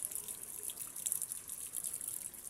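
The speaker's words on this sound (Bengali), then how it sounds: "ও জলের ধারা, জলের ধারা," A stream of water flows at the Sitakunda temple with a steady, close hiss and a bright splashing rush. It runs unbroken and moderately loud with no voices.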